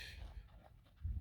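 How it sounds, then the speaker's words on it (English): A dog pants in short, quick breaths close by, soft breathy puffs over a brief moment with a low rumble near the end. "That's a dog."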